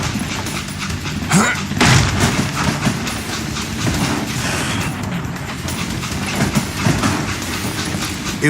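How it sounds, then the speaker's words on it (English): A train rolls steadily in the Western video game Call of Juarez Gunslinger, a loud, continuous rumble with rhythmic clattering of the cars that runs throughout. "It was then that Jesse detached the express car from the rest of the damn train"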